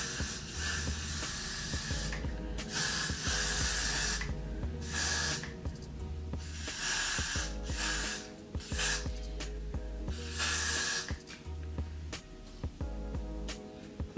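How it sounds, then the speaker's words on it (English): Repeated bursts of Got2b Free hair spray on a braided wig hiss, each a second or two long, close and loud, separated by brief pauses over a low steady background hum. "So I'm gonna use my got to be free spray."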